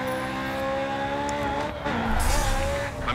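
A car drifts with sustained engine drone and tyre squeal in the racing game GRID 2, the revs climbing and the noise swelling louder near the end.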